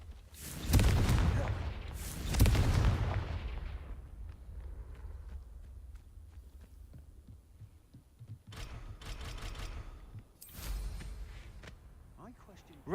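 Confringo fire spell blasting in the video game Hogwarts Legacy: two loud booming bursts near the start, then quieter rumbling, followed by further sharp blasts later on.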